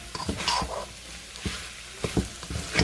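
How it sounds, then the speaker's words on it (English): Shrimp and pineapple fried rice stirred in a hot pan: a spatula scrapes and knocks against the pan in irregular strokes over a soft continuous sizzle, close and fairly loud. "and you stir it together."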